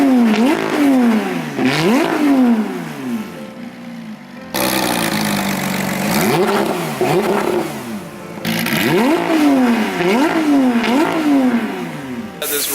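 A sports car with a newly fitted exhaust revs hard in repeated rising-and-falling bursts, loud and close, with short idle pauses between throttle blips and no talking.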